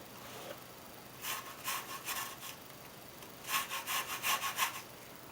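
Lemon and orange zest are grated for a New York style cheesecake: two bursts of brisk, rhythmic rasping strokes, close and clear, the second run longer and louder, with no talk.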